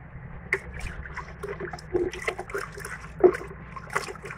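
Turmeric, salt and green chili paste being stirred into water for biryani, giving soft trickling and sloshing liquid sounds with a few light splashes and clinks, close and fairly quiet, with no talking.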